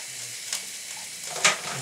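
A chipotle, chocolate and porter chilli sizzling and crackling in a pan as it is stirred, a steady frying hiss with a couple of brief scraping accents.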